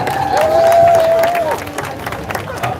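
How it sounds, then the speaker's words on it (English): Crowd at the Kingston College centenary 5K run/walk applauding and cheering at a distance, a steady wash of clapping beneath a voice and a drawn-out whistle or tone. "Give that a big round of applause, ladies and gentlemen."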